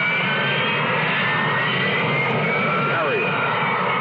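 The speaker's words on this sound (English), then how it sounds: "It isn't a conventional jet, but it can match the speed of sound." Harrier jump jet engine roars as a steady, loud whine across the whole stretch, with a faint rising tonal sweep partway through and a narrator's voice over it.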